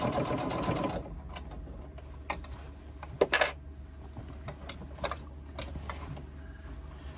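A sewing machine top stitching a reversible tote bag runs in a steady close buzz for about a second, then falls quiet apart from scattered clicks and brief handling sounds as the bag is shifted.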